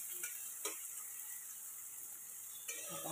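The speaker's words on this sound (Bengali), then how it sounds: "দিলাম পেঁয়াজ, পেঁয়াজটা যেই ভাজা ভাজা হয়ে আসবে একটু" Onion frying in a pan makes a soft, steady sizzle, with a few brief clinks of stirring scattered through it.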